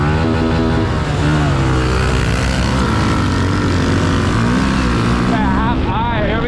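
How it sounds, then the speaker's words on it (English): Pit bike motorcycles race in a 20-lap main event on a track, engines buzzing loud and close from an onboard position, rising and falling as the rider shifts, with talk over the noise. "Raw 20 lap main event. SlayGround Pit Bike Race."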